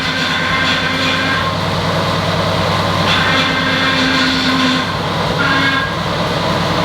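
Mercedes AMG GT power steering pump running low on fluid, a constant loud mechanical whine and grinding drone over the idling engine, steady throughout with a few faint higher tones rising and falling, no talk.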